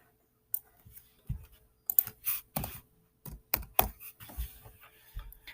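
Keys clack on a computer keyboard while typing into a Google Drawings text box, in uneven clusters of sharp, close taps separated by short pauses.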